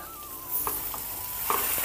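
Steady sizzling of mustard greens frying in a small hot pan with a few light clinks and stirring scrapes, close up, no talking.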